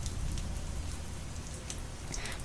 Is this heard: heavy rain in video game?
yes